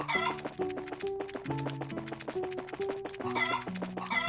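Chickens clucking in the video game Trails in the Sky, quick bursts of clucks over a bouncy melodic music loop, fairly close and steady.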